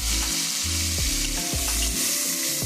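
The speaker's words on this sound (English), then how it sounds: "to the same pot, we're going to add in our onions, our carrot, and our celery. We're going to let that saute" Onions, carrot and celery sauté in a pot with a dense, continuous sizzle, broken by a few brief stirring scrapes, close and loud throughout.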